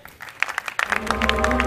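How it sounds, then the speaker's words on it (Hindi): Audience applause at the grand finale of a live stage contest, scattered claps building into steady clapping that grows louder toward the end, with some crowd voices mixed in. "अरुषा के लिए ताली होनी चाहिए"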